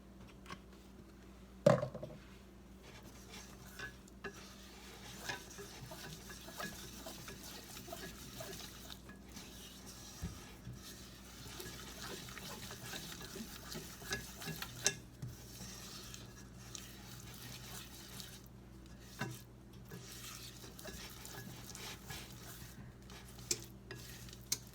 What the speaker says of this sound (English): let the onions saute a little bit before you put the flour in